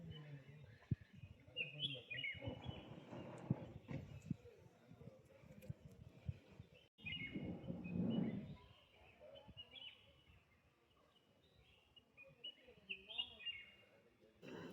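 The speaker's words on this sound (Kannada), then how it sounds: "ಹಕ್ಕಿಗಳ ಕಿಚಿ ಪಿಚಿ" Birds chirp around a homestay, faint high tweets scattered through a quiet background, with a few louder murmuring bursts of activity in between.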